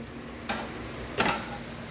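Paneer sautéing in a pan: a faint, soft sizzle, broken by two brief clinks of a spatula against the pan.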